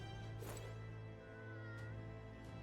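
In the ending scene of the video game Metaphor: ReFantazio, a cat gives a single short meow that rises and falls over a steady, humming music bed.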